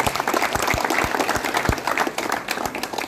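A crowd at a village panchayat election event in Dehri, where MLA Ramanbhai Patkar opens a central office, breaks into sustained applause, with several loud, close individual claps standing out from the dense clapping.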